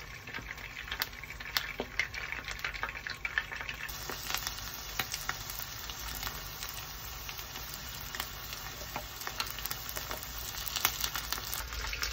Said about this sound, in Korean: 한번 초벌로 튀기고 한 번 더 튀기고 있어요.